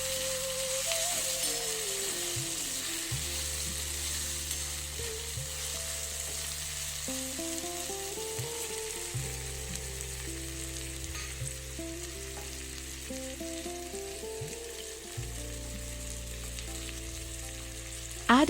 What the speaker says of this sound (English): Stir the tomatoes well in the pan.